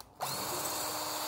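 A power drill starts up abruptly and runs steadily, a loud continuous whine with a biting, grinding edge as it bores into brass, close to the microphone.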